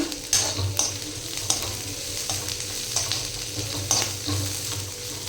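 Green chillies fry in oil in a pan, a steady close sizzle broken by regular scraping and clinking as they are stirred, with no one talking.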